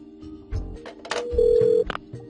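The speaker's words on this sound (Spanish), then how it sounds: "Ahora vamos a llamar por el teléfono." A telephone in the video game Parasite Eve 2, with short ring and tone bursts and a sustained electronic beep near the middle, fairly close and set over faint background noise.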